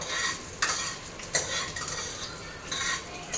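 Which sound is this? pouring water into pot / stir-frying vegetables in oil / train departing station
stir-frying vegetables in oil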